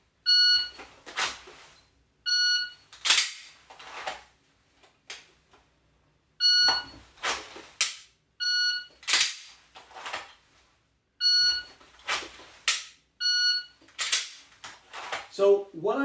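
A shot timer beeps repeatedly during dry-fire pistol practice, about seven sharp, clear electronic tones at intervals of a couple of seconds, each followed by quick clicks and rustles.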